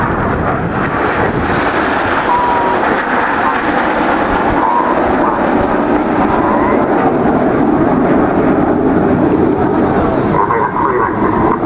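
Red Arrows jets flying at the Bournemouth Airshow make a broad, continuous roar that holds loud throughout, mixed with wind buffeting on the microphone.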